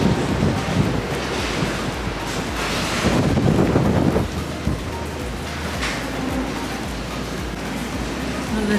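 Hurricane wind roaring outdoors during a storm at a Mexican resort, a loud continuous rushing buffet with heavy gusts battering the microphone, close and steady throughout.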